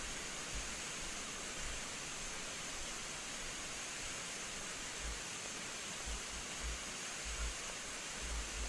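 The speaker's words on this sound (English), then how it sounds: "you have a nice little flow of fluid just like this" A steady, smooth rush of fluid pushed through a hose by gas pressure, with no pump. The even, unbroken hiss holds constant throughout, with faint low bumps underneath.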